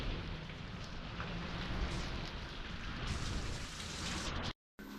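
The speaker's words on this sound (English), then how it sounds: "So we had sun yesterday, rain today." Steady rain falls during a day of heating conversion work, a constant broadband hiss with faint patter throughout, briefly dropping out near the end.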